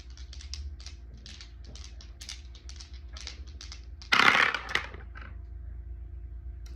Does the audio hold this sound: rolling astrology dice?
yes